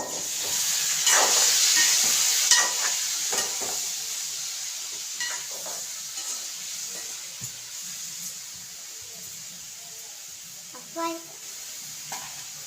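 Onions and drumsticks sautéing in a home-kitchen pan give a steady close sizzle and hiss, with intermittent scraping stirs and brief clatters throughout.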